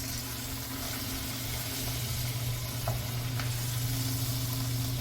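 Steaks just flipped in a hot pan sizzle loudly and continuously, a constant close hiss with a faint low hum beneath and a couple of small ticks.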